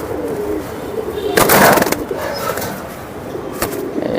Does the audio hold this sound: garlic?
no